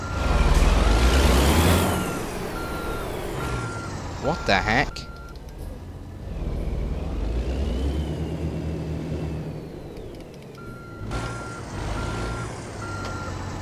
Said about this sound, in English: I seem to not be able to reverse onto it.